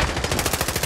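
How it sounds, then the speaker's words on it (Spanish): Rapid automatic gunfire from a Call of Duty: Warzone match, a tight close-range burst of evenly spaced shots lasting under a second. "Tiro, tiro, tiro."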